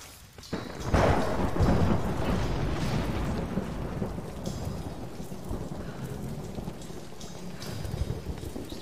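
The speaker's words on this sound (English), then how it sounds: "Storm's getting worse." A thunderstorm rages in the video game Tomb Raider: a sharp, loud thunderclap breaks early, then heavy rain hisses steadily on surfaces, slowly easing in loudness with rumbling undertones.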